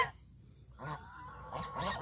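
Domestic geese honk a few times at close range, short nasal calls bunched near the end after a quiet start.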